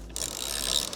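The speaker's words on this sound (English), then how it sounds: "17mm nut socket to release this nut" A ratchet fitted with a 17mm socket turns a nut in a quick, close burst of fine clicking that lasts about a second.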